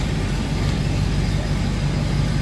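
A 1957 Buick Special engine idles steadily with a low, even rumble that holds constant throughout, close by and moderately loud.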